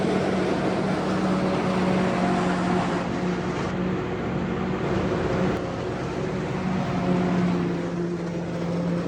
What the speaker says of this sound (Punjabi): ਟਰੈਕਟਰ 200 ਆਰਪੀ ਤੋੜ ਗਿਆ